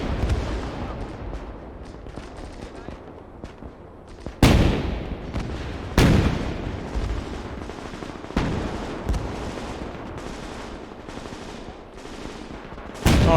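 Guns fire in the World War II strategy game Gates of Hell, sharp loud cracks and booms landing every second or two over a continuous rumble of distant gunfire and battle noise.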